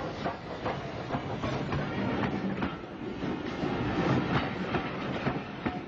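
A Schools Class 440 steam locomotive hauls a boat train past on the up line in Kent, a steady loud rumble with continuous rhythmic clickety-clack of wheels over rail joints.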